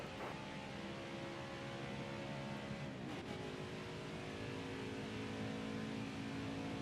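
Race car engines in NASCAR Heat 5 drone steadily at speed, a continuous pack roar with a brief swell as a car closes in on the outside.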